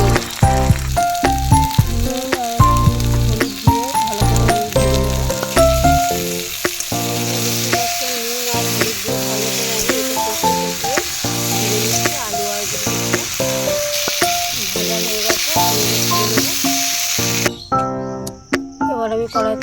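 Potatoes and taro sizzle loudly in hot oil in a wok, a steady, close crackle broken by the rattle and scrape of stirring throughout.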